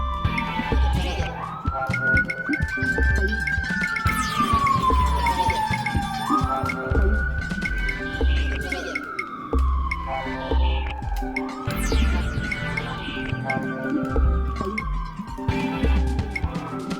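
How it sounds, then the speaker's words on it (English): Police sirens wail in repeated rising and falling sweeps, loud and close, mixed with background music and other noise. "The sirens are not part of the song."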